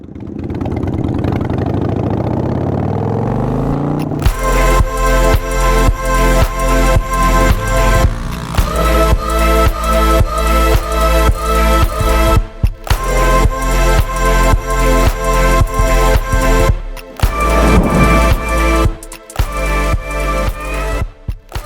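A Harley-Davidson Iron 883 motorcycle engine runs loud and close while riding, its deep rhythmic V-twin thump rising and falling as the throttle opens and closes through gear changes, with brief dips between pulls.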